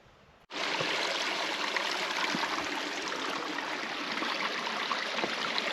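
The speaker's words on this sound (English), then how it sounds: "nice bit of shade, some running water" Running water of a mountain stream near Beinn Mhanach by Bridge of Orchy in the Scottish Highlands starts abruptly after a short quiet moment, then a close, steady rushing and splashing continues.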